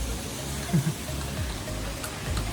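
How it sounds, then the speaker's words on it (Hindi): A waterfall just before Bhimbali on the Kedarnath trek in the Himalayas gives a steady, soft broadband rush of falling water, heard from some distance and fairly faint throughout. "भीमबली से आधा किलोमीटर पहले आपको ये झरना मिलेगा भाई साहब"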